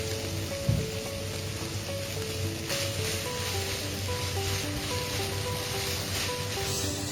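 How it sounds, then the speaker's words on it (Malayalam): Beef coated in masala and tomato sauce is stirred in a pan. A soft, steady sizzle sounds at low volume, with one faint knock early on and a constant background hum. "ബീഫിന്റെ എല്ലാ സൈഡിലേക്കും മസാലാസും ടൊമാറ്റോ സോസും ഒക്കെ എത്തുന്നത് പോലെ ഒന്ന് ഇളക്കിയെടുക്കാം."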